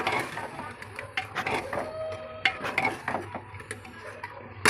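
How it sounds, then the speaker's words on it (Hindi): Mutton pieces stirred in a pressure cooker, a fairly quiet series of irregular metallic scrapes, clinks and knocks of a spoon against the pot, close by with no talking. "फ्रेंड्स, मैंने सारे पीस डाल दिए मटन के, इसमें ऐड कर दिए। इसको अच्छे से चलाएगा।"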